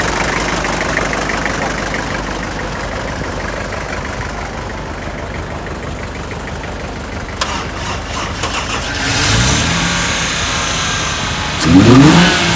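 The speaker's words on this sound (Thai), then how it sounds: "ว่าจะสตาร์ทติดไหมนะครับ" An old Volvo 244 DL car sits idling at a steady low drone, then a sharp clatter and an engine crank burst in near the end, loud and close.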